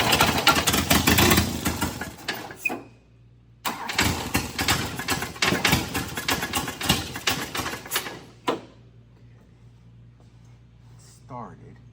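An old 1966 Volvo Amazon wagon engine cranks and catches twice, running roughly for a few seconds each time before cutting out, loud and close, with a loose exhaust manifold.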